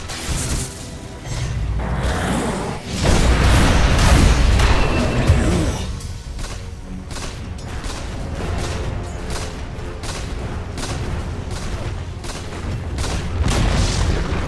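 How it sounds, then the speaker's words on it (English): A tower in Dota 2 comes under attack and is destroyed: loud, heavy booms and crashing impacts pile into a sustained roar that eases into a rumbling wash of battle noise. "Dire's middle tower has fallen."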